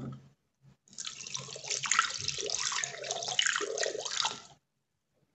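Milk being poured into a Thermomix bowl fitted with the whisk attachment, a steady close liquid stream splashing for about four seconds before stopping abruptly, heard alone without voices.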